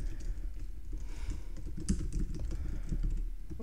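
Someone types code for a Bukkit Minecraft server plugin on a computer keyboard, a quick, irregular patter of close key clicks with no voices.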